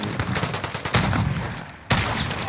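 Rapid gunfire bursts from the Modern Warfare Survival shooter game on Xbox, loud and continuous over about two and a half seconds, with sharp cracks overlapping and a fresh heavy volley near the end.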